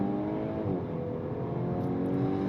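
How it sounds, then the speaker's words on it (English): A 2026 VW Golf R engine holds a steady, close drone, with faint rising harmonics as the automatic upshift happens in manual mode and the pitch eases back without any pause. "even in manual mode, it will still auto upshift."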